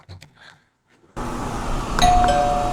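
A short electronic chime from a Ring Battery Doorbell Plus smart video doorbell rings once after some faint handling noises, clear and close against a steady background hiss.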